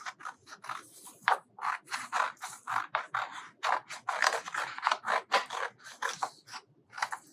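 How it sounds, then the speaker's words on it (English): Scissors snip through a sheet of white paper to cut out a chef's hat, a rapid series of close, crisp cuts with brief pauses between bursts, heard alone. "And then you have a piece of white paper and you're just going to cut."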